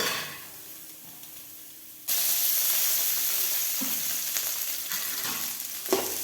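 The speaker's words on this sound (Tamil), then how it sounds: "இனி வெங்காயம் வதக்கலாம் சின்ன வெங்காயம் தொளிச்சு கழுவி எடுத்து வச்சுருக்குது" Small shallots hit hot oil in a chicken curry pot: quiet at first, then a sudden loud sizzle bursts up and holds steady with a few stirring knocks.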